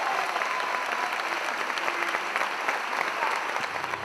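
An audience applauds after a castellers' human tower display by the Viladecans troupe, steady crowd clapping at moderate distance, dense and even throughout.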